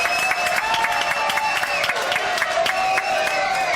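A television studio audience claps and cheers for a singer, sharp individual claps standing out over a crowd murmur and sustained tones, moderately loud.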